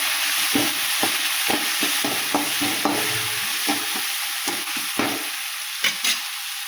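A spiced mixture stirred in a pan, with repeated scraping strokes of a spoon against the metal over a soft frying sizzle, in a steady rhythm and with no talk.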